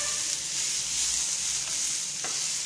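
Ground spices including red chilli powder and garam masala fry in a pan for bindi masala while being stirred, giving a dense continuous sizzle with scraping strokes of a spoon, close and steady.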